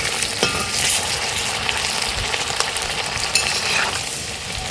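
Rasapuli pitha sizzle steadily as they fry in hot oil, with a continuous bubbling crackle and occasional stirring clinks, close and loud with no voices.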